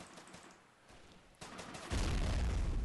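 Grenade blast and rifle fire in the World War II strategy game Men of War, a low boom and rattling shots that build into a loud, dense roar of fire near the end.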